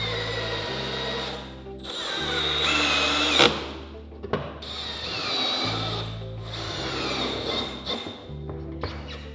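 Power drill driving fasteners through closure strips on an exposed-fastener metal roof panel, a whining motor in repeated bursts of a few seconds each, close and loud, with brief pauses between screws.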